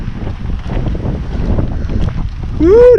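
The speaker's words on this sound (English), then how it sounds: "that wind's starting to blow heavy now. Right in my face. Coming right off top of those bluffs." Strong wind gusts off the top of countryside bluffs buffet the microphone in a continuous broadband rush that swells louder toward the end, with a brief rising whine at the close.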